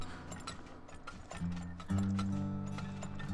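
A group of horses clip-clops in the oil-drilling video game Turmoil, producing light repeated hoof knocks over a mechanical hum and tonal game music that grows louder partway through.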